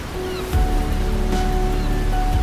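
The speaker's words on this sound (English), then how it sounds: "Millions of liters of water crash downward every second, turning rock into mist" A steady, heavy roar of a waterfall in Iceland fills the scene, a dense continuous wash of crashing water with no pauses, loud and close.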